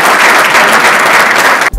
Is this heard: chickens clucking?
no